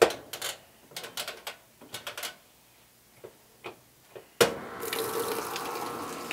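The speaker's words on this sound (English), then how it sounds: "So put it on the hottest setting possible and start your washing machine." A washing machine set to its hottest setting starts and begins filling with hot water. Scattered clicks and knocks come first, then a sudden steady rush of incoming water takes over and continues to the end.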